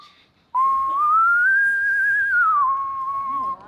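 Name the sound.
man whistling a tune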